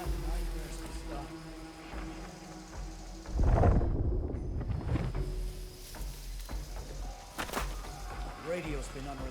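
In the video game Unknown 9: Awakening, thunder from an approaching storm gives one heavy rumbling crack about a third of the way in, then rolls off over steady rain-like noise, with someone speaking over it.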